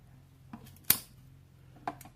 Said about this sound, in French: je vais découper l'opercule